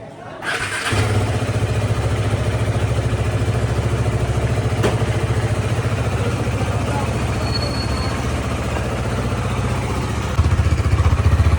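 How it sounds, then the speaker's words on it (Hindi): A motorcycle engine idles up close after a 2000 km trip with its service overdue. The rumble stays steady and loud after a quick start and swells slightly near the end. "तो साउंड से ही पता चलता है कि बाइक का इंजन अभी ठीक है"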